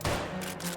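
A Moradi Model 1897 lever-action rifle fired in theHunter: Call of the Wild while hunting wild boar, one loud, close blast with a rolling echo and a couple of fainter cracks as it dies away.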